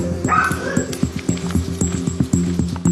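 A young police dog, barely a year old, barks and whimpers in short repeated bursts close by, with a handler's voice mixed in over steady background noise.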